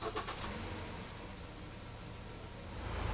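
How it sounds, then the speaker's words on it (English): A car engine in a service bay cranks and catches, then idles with a steady low rumble, the sound filling the space close by and even throughout. "Let's fire up the car and see what we get for a pattern."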